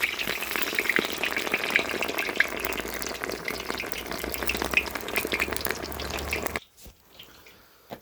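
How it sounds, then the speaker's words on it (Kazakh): Bones for Tashkent plov fry in hot oil with a loud, dense, crackling sizzle that goes on steadily, then cuts off sharply to near quiet for the last second or so. "Осы бір сүйектің өзін бірінші жастап қызартып қуырып аламыз бұны"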